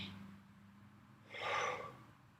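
A single audible human breath, soft and close, a faint breathy sound swelling into a clearer airy exhalation in a quiet room.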